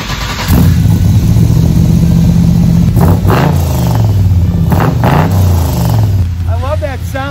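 A car with straight pipes and a straight throttle body stack ejector revs loudly close by, its engine note rising and falling in several throttle blips over a steady idle.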